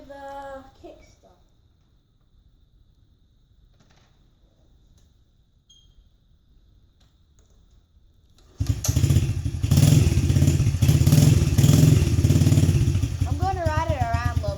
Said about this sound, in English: Now we're gonna do the kick start.